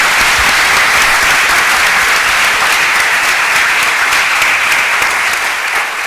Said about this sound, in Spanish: Pido un fuerte aplauso para nuestros panelistas.